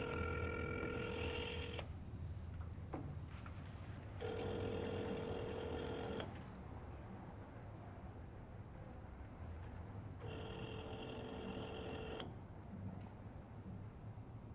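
A telephone dials and then rings while placing a call. A quiet background hiss runs throughout, with repeated tonal ring bursts about two seconds long separated by gaps.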